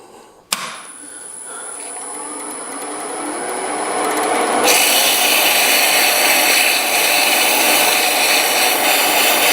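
Sandpaper pressed lightly against a spinning 7mm pen blank on a lathe, a steady broadband hiss and whir that starts with a sharp onset and grows slightly louder and brighter over the clip, with no talking.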